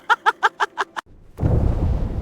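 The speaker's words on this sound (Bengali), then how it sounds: "বোমা পড়ছে সমুদ্রে।" A bomb explosion dropped into the sea bursts into a loud, sustained low rumble. It comes right after a brief silence that follows five short, evenly spaced tonal pulses.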